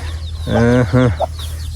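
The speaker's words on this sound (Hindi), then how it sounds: "मुर्गी 7 है माशाल्लाह माशाल्लाह।" Backyard chickens cluck in two quick, close, fairly loud bursts, with a low steady hum underneath and no talking.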